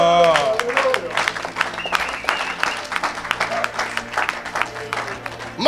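Church congregation clapping and cheering during a preaching and healing service, a dense, continuous burst of applause mixed with voices and shouts, loud and close throughout.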